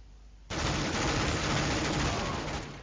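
Gunfire in Counter-Strike: Global Offensive during a competitive match, a sudden loud burst of dense, sustained shooting noise that starts abruptly and roars on for over two seconds, close and overwhelming.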